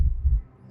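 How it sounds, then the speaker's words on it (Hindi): A heartbeat inside a silent anechoic room comes through as a low, muffled pair of thuds with a faint hum after it, very close and with nothing else audible. "पर मुझे मेरी धड़कन सुनाई दे रही है।"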